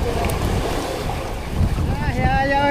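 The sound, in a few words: fishing boat engine running at sea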